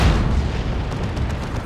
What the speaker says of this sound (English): big old mega battle cannon shot is not enough, apparently, to get one down